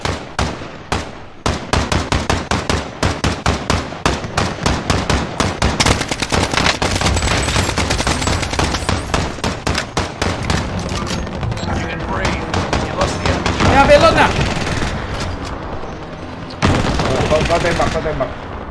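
Rapid automatic gunfire from Call of Duty Mercenaries of Fortune rattles almost nonstop in long loud bursts with brief pauses, while players talk over it.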